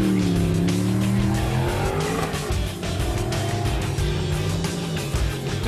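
A car brakes hard on a driving course, its tyres squealing loudly and continuously with skidding noise while the engine roars close by.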